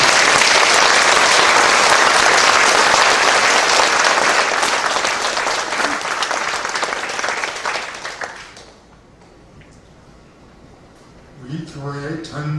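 Church congregation at a Korean pastor's installation ceremony gives loud, sustained applause that fades after about eight seconds into quiet room tone, with speech resuming at the end.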